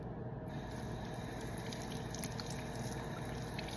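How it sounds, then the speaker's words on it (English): Running tap water steadily rinsing hands at a sink, a continuous close splashing stream with faint drips, with no speech. "So rinsing them in water, putting soap on"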